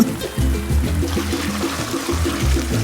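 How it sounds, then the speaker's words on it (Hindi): Water trickles and drips down onto a person's head inside a flooded room, a steady low splashing that runs through the whole short moment without any talking. "ये मेरे सर पर क्यों टपक रहा है?"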